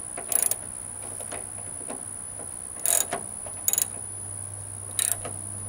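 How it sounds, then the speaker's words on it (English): A ratchet fitted with a 13mm socket turns a bolt while flooring a shipping container home, giving several short bursts of quick clicking separated by pauses over a steady background hum. "grip onto the bolt, clip on it, and then just get my ratchet again. 10mm socket."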